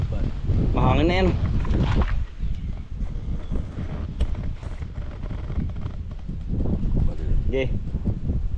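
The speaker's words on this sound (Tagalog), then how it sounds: "Mahangin na yan." Wind rumbles and buffets the microphone outdoors, steady and loud, with people's voices speaking over it while setting posts for a hut.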